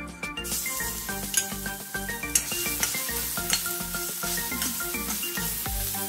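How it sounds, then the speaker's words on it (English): Ginger garlic paste sizzling in hot oil in a pan, a continuous crackling fry with sharp scrapes and taps of a utensil, close and steady throughout; a tonal musical bed runs underneath, with no talking. "When the oil becomes moderately hot, add ginger garlic paste."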